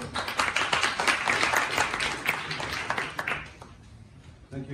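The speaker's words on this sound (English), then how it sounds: "So give a warm applause to Tomas" A conference audience at a marketing masterclass in Barcelona claps for a guest speaker. The dense, steady applause is close and fills the room, then fades toward the end.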